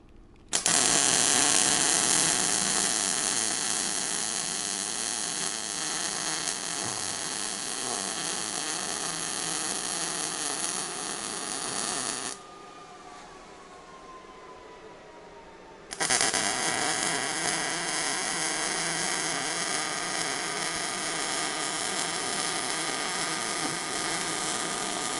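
Metal is welded onto a LiftMaster BMT5011 garage door opener rail extension, producing a steady crackling buzz that stops briefly partway through, leaving a faint hum, then resumes at full strength.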